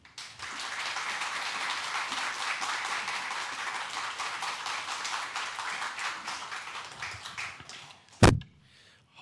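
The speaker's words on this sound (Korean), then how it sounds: "격려하시고 박수하시겠습니다" A church congregation applauds during a Sunday service as an elder comes forward. The steady crowd clapping runs for several seconds and then fades, ending in a sharp knock.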